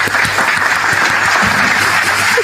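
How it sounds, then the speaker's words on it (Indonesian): Steady, loud audience applause fills an Indonesian religious talk on scripture, a continuous wash of many hands clapping close by with no pauses. "Tepuk tangan dong."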